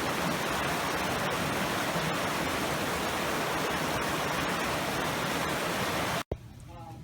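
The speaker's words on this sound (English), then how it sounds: "Bright Angel Creek." Bright Angel Creek in the Grand Canyon rushes in a steady, dense broadband roar, close and loud, before cutting off abruptly near the end.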